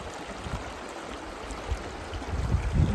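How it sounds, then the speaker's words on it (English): Steady rushing of a river along the Colorado Trail, a continuous broad wash of flowing water that grows slightly louder and rougher near the end, with no voices. "Well, I'm down here by the river"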